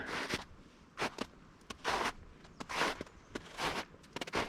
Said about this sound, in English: Fresh footsteps in packed snow.